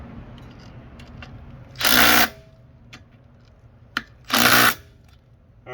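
Power tool, likely an impact wrench, used to fix a flat tire on a vehicle, with two separate loud whirring bursts of about half a second each, nearby, against a quiet background with small clicks.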